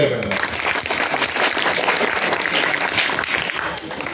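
Audience applause at a children's literature gathering held in a high school, a dense, steady burst of many hands clapping that fills the whole stretch.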